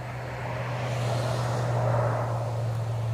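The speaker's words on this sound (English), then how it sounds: "let me let this vehicle go past" A vehicle passes along a street, a steady broadband road rumble over a low hum that swells gently toward the middle and holds, with no talking.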